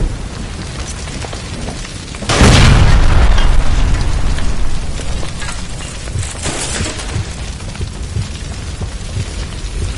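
A gas line by a stove blows up in a game scene as a sudden loud boom with a roaring burst of fire, settling into a long crackling, hissing rumble that stays loud before slowly thinning out.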